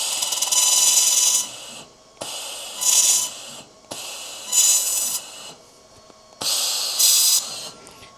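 xTool laser welder tacking a metal T-joint: four separate bursts of bright hissing, each lasting about a second, with short quiet gaps between them and no talk.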